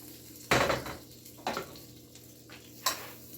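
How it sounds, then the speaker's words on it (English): Sliced onion frying and being stirred in a pan while cooking albacore with potatoes, with three short scraping bursts of stirring over a soft, steady sizzle. "I'm going to add a little bit more of the sablada, the onion, right in here."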